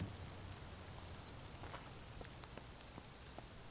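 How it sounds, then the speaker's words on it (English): Light rain patters in a zombie survival game, a faint steady hiss with scattered drops and soft ticks, alone and fairly quiet. "Yep, a little bit of rain."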